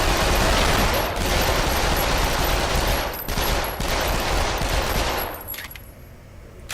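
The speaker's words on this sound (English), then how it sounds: "And this time I got 2 Uzis." Twin Uzis fire in the VR shooting game Lethal VR, a loud dense rattle of automatic gunfire that roars almost continuously, breaking briefly, then cutting off near the end.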